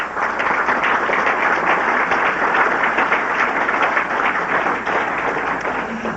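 An audience at a 1990 City Club of Cleveland forum applauds visiting high school students and their teachers, a dense, even clapping that holds steady and close throughout.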